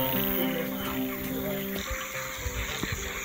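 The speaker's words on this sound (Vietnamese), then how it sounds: "Các bạn đang nghe thấy tiếng ếch kêu buông buông." Field frogs croak in a dense, continuous chorus from rice paddies at night, loud and layered over background noise, with a few brief knocks and no clear speech.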